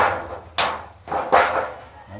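Two or three sharp, loud knocks at uneven intervals, each with a short ringing tail, like hammer blows struck close by.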